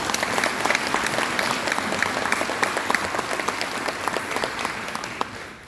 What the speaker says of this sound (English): Let's give these folks a nice round of applause.